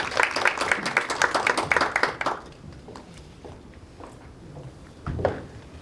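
An audience applauds after a startup pitch at a corporate startup event, loud dense clapping for about two seconds that then breaks off, leaving a quiet room with scattered faint taps and a brief rustle.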